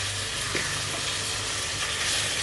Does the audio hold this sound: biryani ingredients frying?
yes